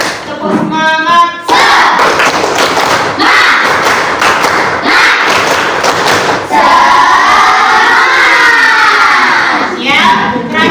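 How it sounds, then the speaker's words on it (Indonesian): A sixth-grade elementary school class claps in rhythmic bursts during a patterned clapping cheer, loud and close, with children's voices chanting and shouting over the claps. "tepuk 1, tepuk 2, tepuk 3, tepuk semangat"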